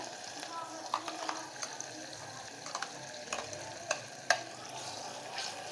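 Crushed masala frying with watery tomatoes in a pan for a spicy vada rassa curry, a soft steady sizzle broken by light spoon scrapes and stirring clicks.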